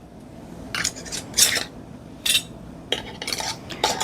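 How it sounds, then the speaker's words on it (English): Metal rings are lightly screwed onto canning jar lids while apple butter is being canned, giving several short bursts of scraping metal clinks close by. "So I'm lightly screwing them on now"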